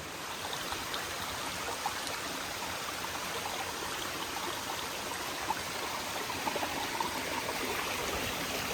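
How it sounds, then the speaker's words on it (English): Rushing water roars steadily in a broad, even wash from a big waterfall feeding a flowing stream nearby on the Appalachian Trail, with no voices. "There's a big waterfall."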